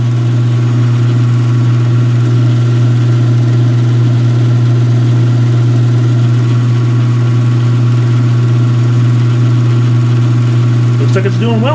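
A 2016 Speed Queen belt-driven washing machine running, giving a loud, steady low hum with a constant mechanical drone and no breaks, close to the machine.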